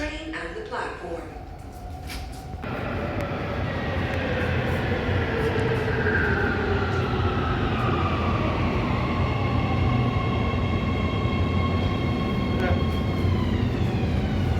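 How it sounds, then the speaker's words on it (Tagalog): A Riyadh Metro train pulls into the station platform, a loud, rising electric whine and rumble that builds and holds steady as it arrives, with a platform announcement voice heard early on. "The next train to الدار البيضاء is approaching."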